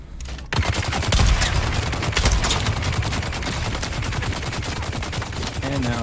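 Loud, dense gunfire from a minigun and a shotgun in the video game Dune bursts in after a brief quiet moment. It continues as a rapid, sustained rattle of shots.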